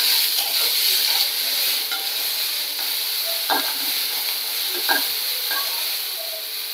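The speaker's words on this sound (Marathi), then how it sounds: "हे पहा, कांदा छानपैकी भाजून घेते." Onion frying in a pan for a village-style chicken curry gives a steady bright sizzle, with a few soft scrapes and stirring clinks over the hiss.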